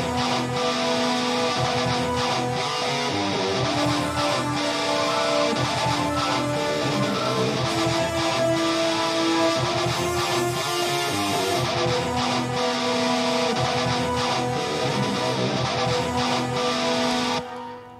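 Symphonic metal mix where rhythm electric guitar plays alongside flute and horns, a dense, loud and continuous blend lasting the whole passage before cutting off abruptly at the end.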